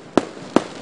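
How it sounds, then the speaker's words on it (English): New Year fireworks go off outside a residence near Paramaribo, two sharp, loud bangs about half a second apart with faint crackle between them. "we see the fireworks going up in celebration of the new year with all the lights"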